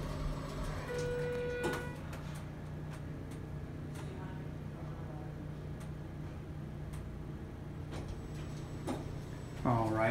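A 1998 Schindler 321a hydraulic elevator at an inn in Tillamook, Oregon, riding up with a steady low motor hum and faint ticks and clicks inside the cab, ending with a chime.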